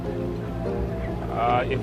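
A boat engine drones steadily on a river where a crocodile had been basking, a low continuous hum with a person talking over it.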